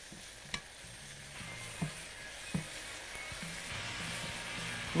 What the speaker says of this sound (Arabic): بحمر البصل